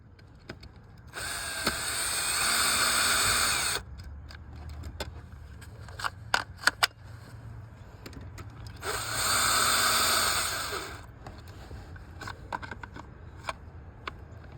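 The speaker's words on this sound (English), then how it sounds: "And that's how you kill your drill." A power drill whines in two loud sustained bursts of a few seconds each while work goes on around an Impala car, with clinks, taps and rattles of tools between the runs.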